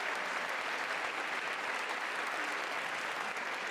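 A packed chamber at the State of the Union keeps up dense, even clapping from start to finish, a continuous wash of applause with no pause.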